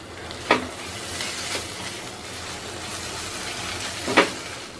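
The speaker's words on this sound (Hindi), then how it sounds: "धीमी आंच पे 1 से 2 मिनट बेसन को भी साथ में भून लिया है" Besan and spices roasting in a pan over low heat, with a steady quiet sizzle and two sharp scraping stirs of a spoon.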